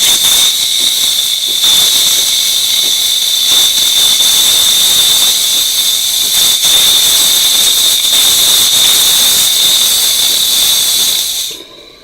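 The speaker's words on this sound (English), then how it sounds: "Leftover steam will just come out." Leftover steam vents from a DeLonghi espresso machine in a loud, unbroken, high-pitched hiss held close for several seconds, then cutting off abruptly at the end.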